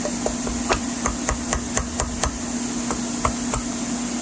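Light tapping as a valve seal is knocked into place on a Chevy Silverado Vortec LS engine head: a steady series of about a dozen short, sharp knocks at close range over a constant background hum, with no talking.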